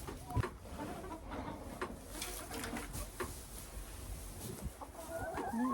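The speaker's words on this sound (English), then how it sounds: "Sorry, chickens." Chickens clucking on a farm, scattered short calls near and around amid a busy ambient background, with no talk.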